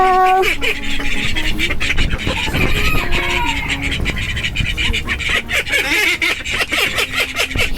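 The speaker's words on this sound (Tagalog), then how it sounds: "Did you hear that guys? Ganyan ang huni ng mga itik." Ducks quack and honk continuously as a noisy backyard flock, loud and close, with overlapping calls throughout.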